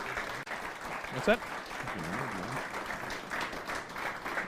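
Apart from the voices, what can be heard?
audience applause for shootout winner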